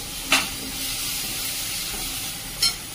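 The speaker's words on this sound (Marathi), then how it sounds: "हाय फ्लेमवर हा छान असा परतून घ्यायचा आहे कांदा" Onion sautés in a pan over high flame with a continuous soft sizzling hiss, broken by two brief louder bursts of steam or stirring near the start and end.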